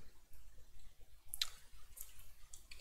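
Sparse clicks from typing on a computer keyboard, a few faint, isolated keystrokes spaced out in a quiet room with no talking.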